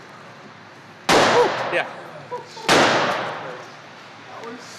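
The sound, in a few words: gunshots from a gun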